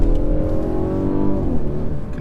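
A 2017 Mercedes E300 burbling under load while driven, a loud, low, steady engine drone that slides slightly in pitch near the end, close and alone.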